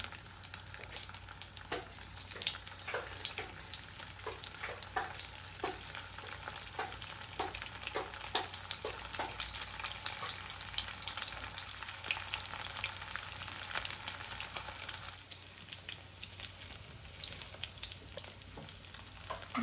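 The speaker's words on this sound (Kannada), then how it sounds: "ಸೊ ಇದನ್ನೀಗ ಫ್ರೈ ಮಾಡ್ಕೊಳ್ಳೋಣ ಒಂದೊಂದಾಗಿ" Pieces of food fry in a pan, one by one, with a constant bright sizzle and frequent stirring or turning clicks, steady for most of the stretch and slightly softer near the end, with no talking.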